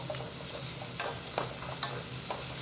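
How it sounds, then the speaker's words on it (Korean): Radish stir-fries in a pot with a soft, even sizzle and a few light spatula scrapes spaced about half a second apart, close but fairly quiet, no talking. "물을 이렇게 달달 볶아 주세요"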